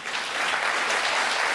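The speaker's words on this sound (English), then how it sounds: "Pause for applause," Sustained, dense applause from an audience at a political speech, a steady wash of many hands clapping at even loudness throughout, with no voices rising above it.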